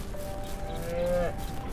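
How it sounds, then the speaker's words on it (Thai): A cow moos once in the farming game Ranch Simulator, a single drawn-out low call that rises and swells to a peak near its end, standing alone over quiet game ambience. "นั่นโดนวัวด่าแล้วครับ"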